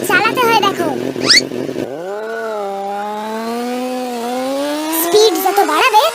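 A new motorcycle starts and rides: a loud, steady engine drone rises in pitch and holds as it revs, with people talking over it at the beginning and end.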